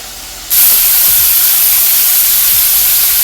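Meat for a Bahian feijoada, including brisket, carne verde and pork ribs, dropped into a hot pot, bursting into a loud, steady sizzling hiss that starts abruptly and keeps going without talk.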